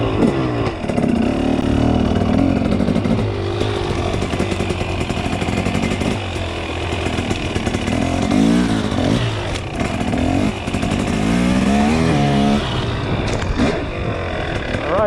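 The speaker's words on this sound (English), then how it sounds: "my bike's pretty loud" A loud motorcycle engine roars continuously during a ride, rising and falling with throttle and rumbling close to the rider, with clattering wind noise mixed in throughout.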